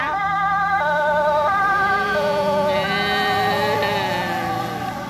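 A Dutch fire truck's siren wails loudly and steadily as it passes, its stepped tones shifting pitch over continuous traffic noise.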